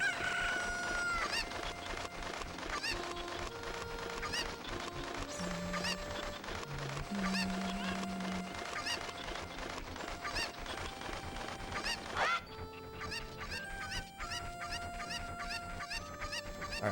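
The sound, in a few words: chickens clucking in Zelda: Ocarina of Time video game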